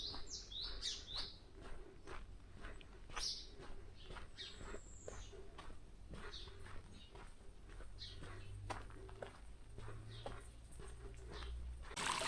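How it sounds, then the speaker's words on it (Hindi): Birds singing around a village in Gilgit-Baltistan, with bright chirps and tweets scattered through a quiet outdoor scene, clearest at the start and a little distant, along with faint footsteps and low background rumble. "और ये जी बैकग्राउंड में ये खूबसूरत परिंदों की आवाज़ें कितना प्यारा लगता है।"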